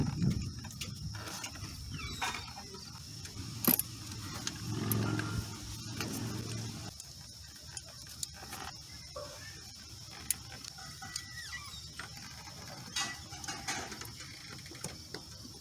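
Faint ratcheting and metallic clicks from a wrench driving a 12mm bolt on a coolant hose of a 2020 Toyota RAV4. Scattered, irregular ticks sit over a low, quiet background hum.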